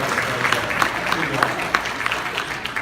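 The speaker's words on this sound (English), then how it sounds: "A little round of applause there." A convention crowd at StocktonCon applauds during a voice actor Q&A, with dense, steady clapping holding at an even level throughout the short stretch.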